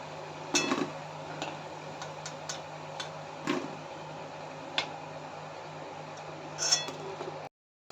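Fried urad dal vadas set down on a plate, giving a few light clinks and taps against the plate over a quiet kitchen background with a steady low hum.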